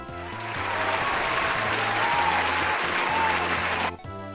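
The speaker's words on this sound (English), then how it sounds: "Thank you very much for your applause" Continuous applause sound effect in the video game Fire Emblem: The Binding Blade, broad and sustained, with a low repeating tone underneath; it cuts off abruptly near the end.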